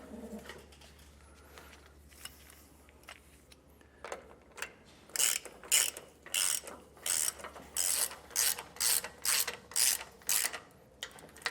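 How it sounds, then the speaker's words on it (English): A 19mm socket and ratchet wrench snugging sway bar bolts on a 2004 Ford F-53, rapid clicking ratchet bursts repeating in a steady series, close and crisp, with faint bird calls in the background. "I'm going to take my 19mm socket and wrench. I'm going to tighten down each of these bolts."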